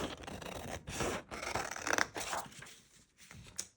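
Scissors cut through icy blue paper while trimming a sheet to size for a die-cut, embossed journal page: close, dry scratchy snips in a few uneven bursts, then a quieter stretch with one last brief cut.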